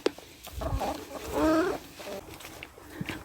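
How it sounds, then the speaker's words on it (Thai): Chickens on a Thai farm cluck in short bursts close by, with one louder squawk midway, while someone speaks briefly among them. "ก่อนที่เราจะเข้าป่าก็ลงมาทักทายน้องไก่ก่อน"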